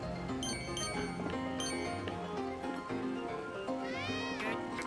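A cat meows amid a busy game soundtrack, with a rising, wavering call near the end standing out over steady music and effects at fairly low level.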